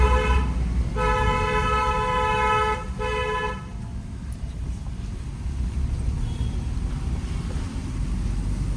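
A car horn sounds in two long blasts in city traffic, the first held for about two seconds, then a brief pause and a shorter one, over road noise.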